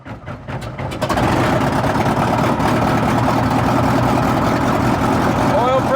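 A Lancair propeller aircraft engine catches and settles into a steady, loud running drone after start, with a rough uneven onset in the first second before the sustained roar.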